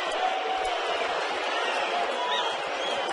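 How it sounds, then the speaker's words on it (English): A crowd at a Major League Baseball game between the Chicago White Sox and Seattle Mariners, around 20,000 people, keeps up a steady broad roar and murmur throughout, with no single voice standing out. "Crowd responding to the video board prompts"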